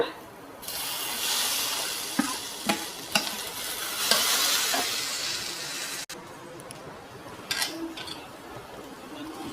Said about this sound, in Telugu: ఈ పప్పు తీసుకొని ఇందులో వేసేయాలన్నమాట